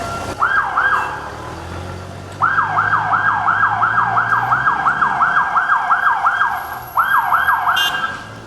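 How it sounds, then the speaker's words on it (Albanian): Police car sirens wail in a fast repeating yelp during a chase through Vlorë, loud and near, pausing briefly before resuming, with faint traffic rumble beneath. "Sirenat e policisë kanë tërhequr jo pak vëmendjen e qytetarëve"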